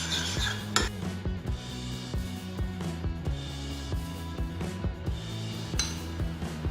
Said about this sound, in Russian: Все это перемешиваем.